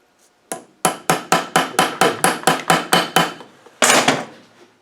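A hammer taps a small chisel about ten times in a quick, even rhythm to pry open a Land Rover 200Tdi gearbox, each sharp metallic strike close and loud, with a final heavier blow at the end.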